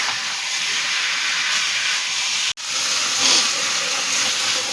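Potato and papaya curry cooking down in a pan as its water dries off, giving a steady broadband hiss like steam throughout, with one brief dropout midway.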